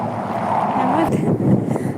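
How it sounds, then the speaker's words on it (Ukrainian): Rumbling wind buffeting the microphone throughout, low and blustery, with a voice partly audible under the noise. "о, вітер якийсь"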